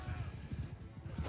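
Hooves clop in a quick rhythm, with a faint horse whinny, during a snowy mounted battle in Mount and Blade Bannerlord; the sounds are fairly quiet and heard without talking.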